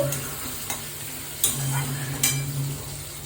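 Food frying in a pan on a gas stove gives a steady close sizzle with a low burner hum, broken by a few sharp scraping stirs.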